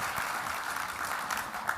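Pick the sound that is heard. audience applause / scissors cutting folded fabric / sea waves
audience applause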